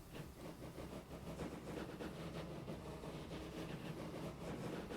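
Train running in the Transport Fever 2 simulation game, a continuous low rumble of rolling wagons and engine, steady and fairly quiet throughout.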